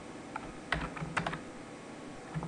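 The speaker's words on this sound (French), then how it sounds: "Je tape un texte ici" Sparse, close keystrokes on a computer keyboard as text is entered into a page header, a few light taps scattered over a couple of seconds in a quiet room.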